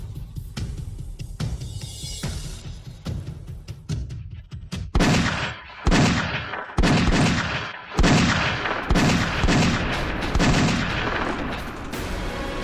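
A volley of gunfire from guards' guns: a string of loud, sharp, rapid shots with echoing booms, near and intense, with no voices over it.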